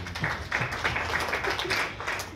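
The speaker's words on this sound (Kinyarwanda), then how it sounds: "Uyu munsi tumeze neza, muha amashyi y'abaproducer." An audience applauding the producers at a live event, with a steady wash of clapping throughout and faint voices underneath.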